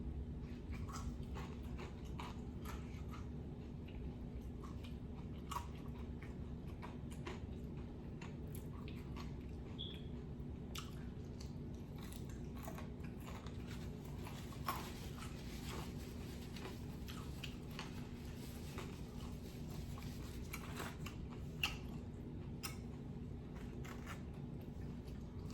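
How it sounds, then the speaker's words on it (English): Crunchy Chicken Express fried chicken chewed up close in a mukbang, faint repeated crisp crunches and bites over a steady low hum, no talking. "I know y'all can hear the crunch."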